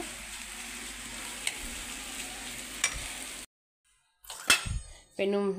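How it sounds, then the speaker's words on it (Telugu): Potato pieces fry gently in a pan over a low flame, giving a soft, even sizzle for about three seconds. The sound cuts to silence, then brief clatter and a voice follow. "ఆలు వేసిన తర్వాత కొద్దిసేపు ఫ్రై చేసుకుందామండి లో ఫ్లేమ్లో."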